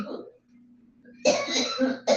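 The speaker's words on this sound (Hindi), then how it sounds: "माता जी को जरा खांसी आ गई थी" A few harsh coughs from an elderly woman break out close by after a quiet moment, ending with one more short cough.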